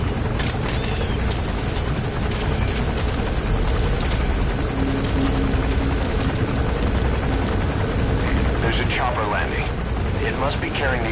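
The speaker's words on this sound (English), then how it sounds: "That's an enemy gunship." An enemy gunship helicopter in Metal Gear Solid V thunders steadily throughout, its rotor wash a loud continuous roar, with game voices talking over it.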